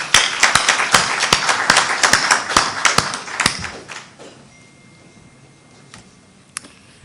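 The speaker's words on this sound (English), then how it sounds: "Let's give him a good round of applause" An audience at a breakfast seminar gives a round of applause, with loud, fast clapping and a few sharp individual claps standing out. The applause fades out after about four seconds, leaving a quiet room with one stray tap.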